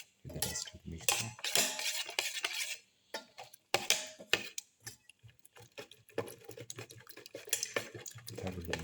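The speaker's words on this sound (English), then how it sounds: "Mix in the black pepper with the rest of the mixture." A metal spoon or spatula stirs and scrapes through egg fried rice with black pepper in a pan, giving irregular close clinks and scraping bursts separated by brief quiet gaps.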